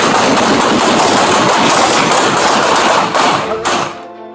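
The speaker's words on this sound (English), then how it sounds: "prompting an officer to fire a 40mm less lethal round." A police officer fires a 40mm less-lethal impact round during an armed standoff, giving dense, loud, rapid thumping and cracking bursts that run continuously before tapering off at the end.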